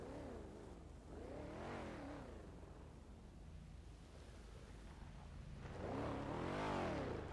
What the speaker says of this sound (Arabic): بعد صوت الاكزوز مال سيارتك تعبان